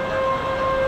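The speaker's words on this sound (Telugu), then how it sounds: "ట్రైన్ వస్తుంది చూసిరా కిందికి" A train on a hill railway track near Vani Saptashrungi temple in Nashik, Maharashtra, gives a loud, steady, horn-like tonal whine lasting under a second, with no voices.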